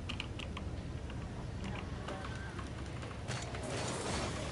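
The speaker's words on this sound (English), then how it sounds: "This is the W key." Keys on a new computer keyboard being pressed during a Rocket League session, a run of quick light clicks and taps under faint background game noise, ending in a denser cluster of keystrokes.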